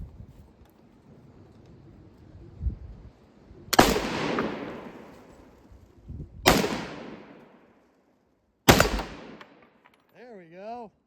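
A BAR rifle firing .30-06 rounds at AR-500 steel targets outdoors: three sharp, loud single shots spaced a couple of seconds apart, each trailing a decaying rumble, with faint movement between and a brief tonal warble at the end.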